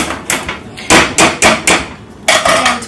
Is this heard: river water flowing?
no